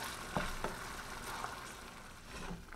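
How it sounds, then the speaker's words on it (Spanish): Tomato sauce frying in a pan, a steady low sizzle with a few soft stirring clicks, quiet and close. "A continuación añadimos la salsa de tomate y sofreímos por uno o dos minutos"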